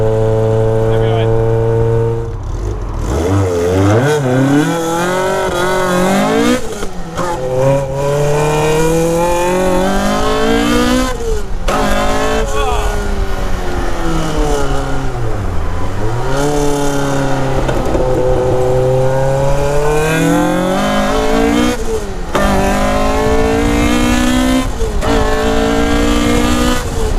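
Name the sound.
Caterham R500 Superlight car accelerating, exhaust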